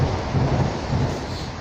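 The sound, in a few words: rain falling in a forest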